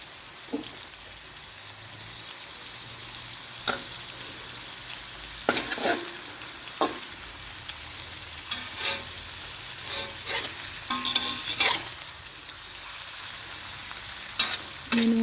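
Pork, eggs and fresh khajorn flowers stir-frying in a pan, a continuous frying sizzle with intermittent scraping and clinking of the spatula against the pan, fairly close and without talk.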